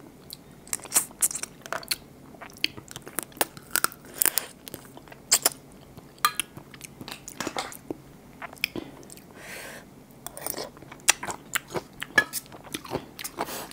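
Crunchy bites and chewing of raw blue crab salad with fresh roe, with many sharp, close crackling crunches in irregular rhythm and no talking.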